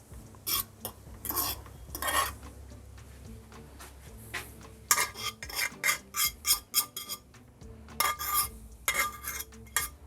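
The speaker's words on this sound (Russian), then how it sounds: "Металлической вилкой по железной сковородке мечта любого мужика." A metal fork scrapes and rasps against an iron frying pan while meat fries for Ossetian pie filling, in repeated short strokes, fairly close and clear, over a low steady hum.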